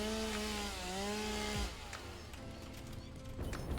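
In a video game, a chainsaw's tonal whine cuts into trees, wavering in pitch before stopping abruptly, followed by quieter wooden knocks and rustling; close and alone, with no speech.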